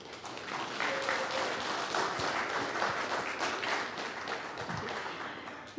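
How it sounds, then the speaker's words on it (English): An audience at a neighborhood meeting in an elementary school claps steadily for the deputy mayor, a dense, even patter of applause at moderate distance lasting several seconds. "let's give a warm round of applause to your deputy mayor, Susan Honda."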